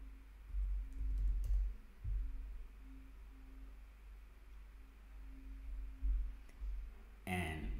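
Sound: typing a password on a computer keyboard

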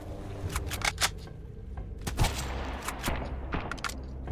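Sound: shotgun gunfire in the video game Sunkenland

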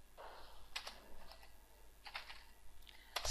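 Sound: typing code on a computer keyboard

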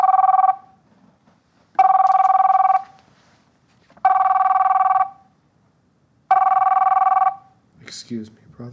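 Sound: work phone ringing

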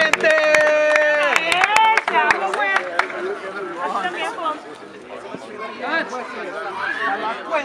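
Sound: crowd applause at street rap battle

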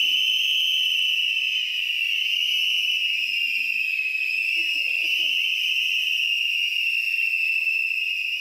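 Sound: crowd of people whistling together in theatre foyer

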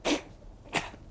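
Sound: sneeze

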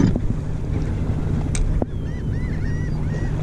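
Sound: boat motor running on the bay

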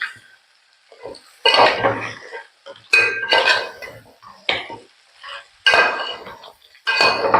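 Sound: stirring crab roast masala in a pan

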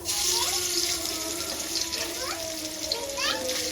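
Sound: hilsa fish frying in hot mustard oil

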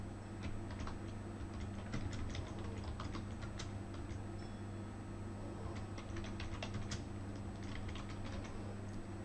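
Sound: typing on a computer keyboard

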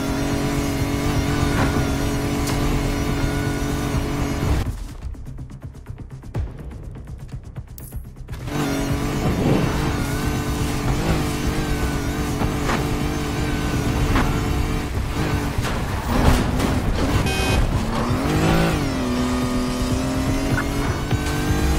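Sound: car driving in Need for Speed Heat video game

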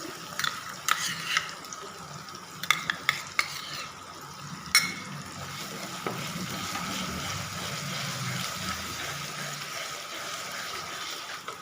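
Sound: ginger garlic paste frying in oil, stirred

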